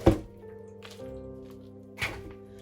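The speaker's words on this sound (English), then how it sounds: "Add in more soil." Potting soil dropped and pressed around a caladium tuber in a pot, giving two soft, dull thumps about two seconds apart over a faint steady hum, with no talk.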